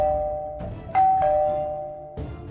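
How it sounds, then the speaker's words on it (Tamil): A doorbell chimes several times in a short sequence in the video game Uninvited Guest, clear bell tones ringing out over a quiet background. "திரும்ப அவங்க வீட்டோட காலிங் பெல் வந்து சத்தம் கேட்க ஆரம்பிச்சிருக்கு"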